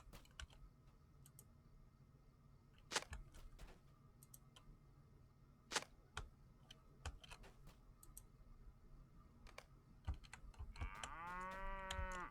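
Cattle on a farm in a video game, with a few scattered moos against a quiet background of sharp clicks and ticks, and a rising, wavering tone near the end.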